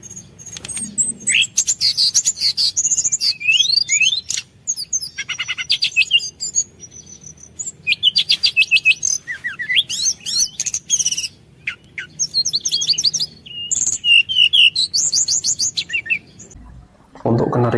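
Pet canaries chirp and trill in rapid bursts, bright song phrases repeating with short pauses, close and clear above a low background hum.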